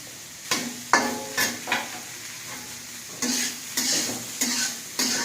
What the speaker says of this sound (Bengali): একটু ভাজার জন্য মশলা ছিল, সেই মশলাটা দিয়ে দিচ্ছি, একটু হলুদ দিব